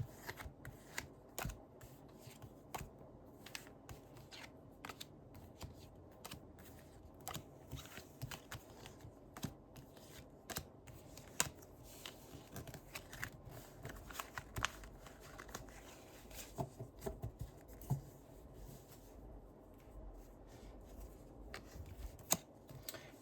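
Cards shuffled for a reading, a steady run of soft riffling clicks and flutters lasting throughout, fairly quiet and close, with no talk over them.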